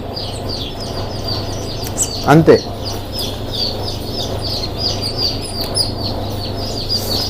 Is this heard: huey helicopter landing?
no